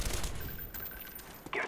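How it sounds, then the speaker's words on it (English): Quick burst of gunfire from a shotgun in Call of Duty: Black Ops, loud shots crowded into the first fraction of a second, then a brief tail and another sharp hit at the end. "I miss all of the shots with the shotgun left and right!"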